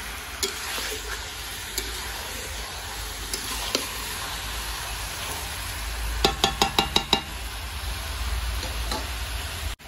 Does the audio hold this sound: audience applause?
no